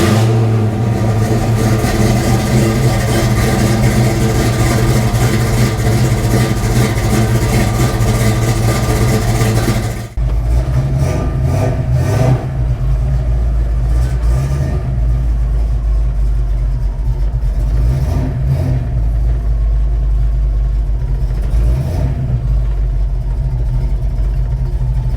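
A car with a freshly broken-in 347 engine revs hard and loud, holding a steady roar before a brief dip, then pulling on with heavy low rumble and rising and falling throttle.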